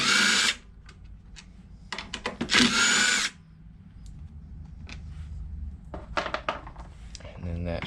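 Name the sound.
power tool removing bolts from lawn mower air cleaner housing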